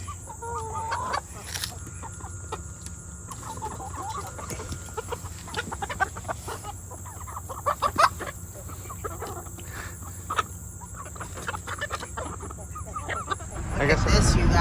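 Chickens clucking steadily around a yard during a rainy day at a home sod-laying job, repeated clucks close by over a constant background hum, with a louder rumble near the end.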